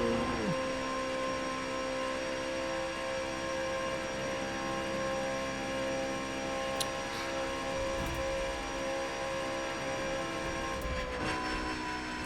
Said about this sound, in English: Sounds like an airplane.